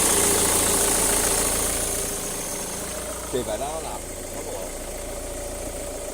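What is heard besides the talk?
car engine idling, won't turn off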